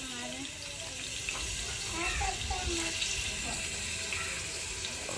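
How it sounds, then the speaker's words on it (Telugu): Tap water runs steadily into a household sink as a soft continuous rush, with faint voices in the background. "నీళ్ళు వస్తున్నాయి"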